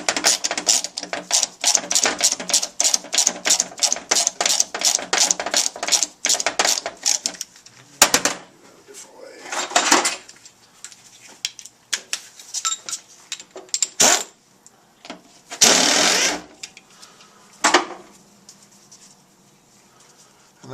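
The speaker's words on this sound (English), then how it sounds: "you just want to remove this Allen" An Allen bolt is worked loose on a KTM Husaberg powervalve, with a fast run of light metallic ratcheting clicks followed by scattered taps, clinks and scraping handling noises close by.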